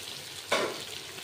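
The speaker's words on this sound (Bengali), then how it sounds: "এবার আমি পেঁয়াজ আর ক্যাপসিকাম একসাথে ভেজে নেব" Onion and capsicum hit a hot pan together for a mutton dish, a sudden burst of sizzling that jumps up midway and then settles into a steady, close frying hiss.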